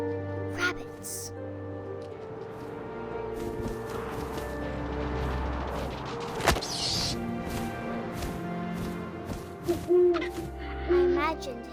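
Owl hooting in the video game What Remains of Edith Finch, a few soft hoots over a steady wind-like game ambience with music and narration running throughout.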